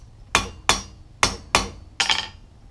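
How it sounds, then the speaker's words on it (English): Five sharp metallic taps of a hammer edge on steel while forging tongs, evenly spaced ringing strikes, close and loud with no talking. "Take the edge of your hammer, tap that little bump back in"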